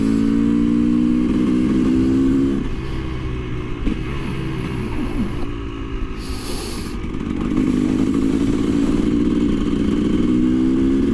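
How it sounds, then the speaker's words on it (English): A KTM EXC 250 two-stroke motard engine revs hard and close, its rising howl dropping back and then climbing again in sharp, angry bursts. "It's a push bike with a very angry engine inside it."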